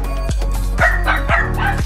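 A dog barks loudly and close, with four sharp barks spaced roughly half a second apart over a steady low background hum.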